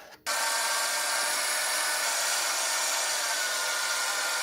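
A metal lathe takes a very light finishing pass across a workpiece: after a brief quiet moment, a steady, even cutting hiss and whir starts and holds unchanged to the end.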